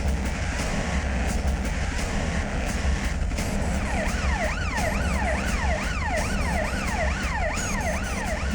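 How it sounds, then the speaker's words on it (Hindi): An ambulance siren wails in rising and falling sweeps, entering about halfway through and continuing over a steady traffic rumble as ambulances rush victims of poisoned wedding food to a hospital. "4 एम्बुलेंस पीछे और आ रही है।"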